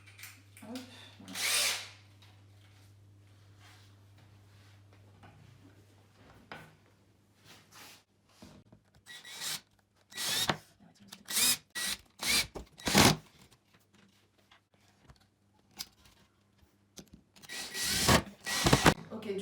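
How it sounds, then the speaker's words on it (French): A power drill drives screws into a wooden shelf in short, loud, whirring bursts of a second or two, separated by pauses and handling noise, with a steady low hum underneath and a voice speaking briefly. "Vient le moment de visser."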